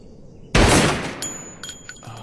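Single loud pistol shot in an anime film, a sharp close blast with a short ringing tail, followed by faint metallic clinks.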